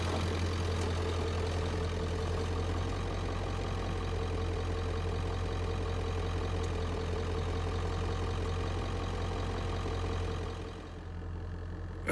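A pickup truck engine idles steadily close by in early winter, a low, even rumble with a faint knocking rhythm that drops slightly near the end.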